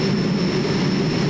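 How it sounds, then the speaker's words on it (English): A pulling tractor fitted with four turbine engines roars at a 1996 European tractor pulling event in Bernay, France, a loud, dense, continuous turbine howl with a high whistling tone, close and unbroken. "Quite a noise from his 4 turbo mecha turbines"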